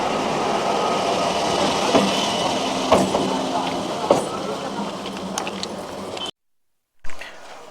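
Train standing at Bongaon station, with a broad rumbling hum of the train and platform, scattered clanks and knocks, and voices mixed in before a sudden cut to silence and back.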